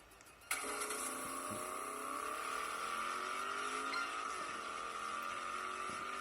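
Video game car driving: a steady, close engine tone with faint tire squeal starts abruptly and holds, shifting pitch slightly partway through, with no talk.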